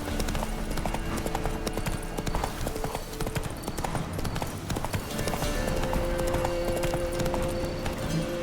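Roach the horse galloping in The Witcher 3, a fast continuous clip-clop of hooves over a steady ambient bed, close and prominent, with a faint voice and tonal music hum creeping in later.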